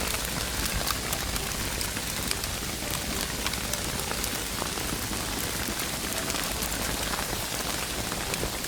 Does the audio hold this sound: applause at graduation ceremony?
no